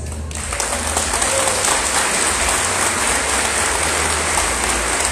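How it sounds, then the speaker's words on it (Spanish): A crowd applauding at a municipal president's swearing-in ceremony in Tepeojuma, with dense, loud, continuous clapping sustained throughout like heavy rain. "Escucho fuerte el aplauso"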